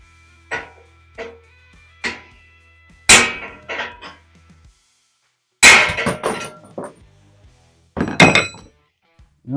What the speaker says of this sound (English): Then we will take our hammer